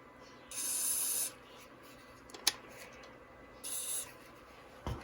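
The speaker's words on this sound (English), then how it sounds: "we got to spray the switch because it was popping real bad" Two short hissing bursts of aerosol spray onto a vintage radio switch, fairly close and separated by a click, against a quiet background with no talking.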